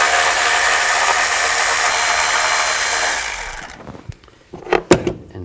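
A 10mm socket removes two bolts from a plate on a 2000-2006 Chevy Tahoe during a knock sensor replacement, with a loud, steady whirring drive that stops abruptly, then a few metallic clinks and knocks close by.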